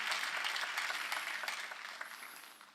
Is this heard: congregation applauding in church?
yes